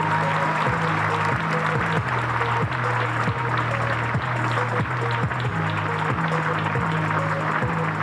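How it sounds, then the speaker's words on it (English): Sustained audience applause for Elizabeth Sullivan at the unveiling of The Embrace, dense and steady throughout with no break, while a low tonal hum runs underneath. "One more round of applause for Elizabeth Sullivan."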